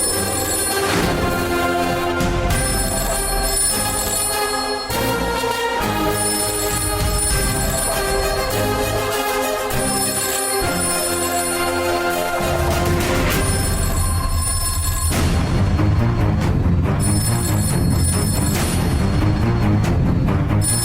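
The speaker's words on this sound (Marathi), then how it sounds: "घरातल्या फोनवर आता फोन कोण करत असेल?" A home landline telephone rings in repeated electronic trills, loud and steady, mixed with music throughout.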